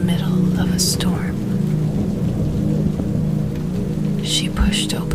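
Steady rain pouring down during a thunderstorm, with a constant close hiss of drops and low rolling rumbles of thunder underneath, no other sounds breaking through.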